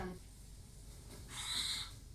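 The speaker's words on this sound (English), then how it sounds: "Where the heck did that bird come from?" An owl in a TV show gives a single faint, high, drawn-out call lasting about half a second, set against a quiet background hum.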